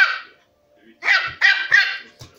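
A dog barks close by: one bark, a short pause, then three quick barks in a row with a small trailing yip, loud and clear with no talk over it.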